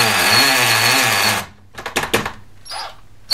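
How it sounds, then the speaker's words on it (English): A power drill with a masonry bit boring into a plasterboard wall with wood behind it while fitting a roller blind: a loud, steady whir, then it stops and short bursts of drilling and clatter follow, close up. "So I'm going to use a masonry drill bit initially, use my dust box here to collect any dust."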